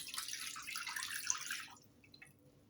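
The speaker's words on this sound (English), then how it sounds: "I have to use this big casserole dish now. Should have planned this. It's supposed to be a simple recipe. So I'm just going to pour that in there." A healthy dessert mixture is poured into a big casserole dish with a splashy pour for about two seconds. It then stops, leaving a few faint drips in a quiet kitchen.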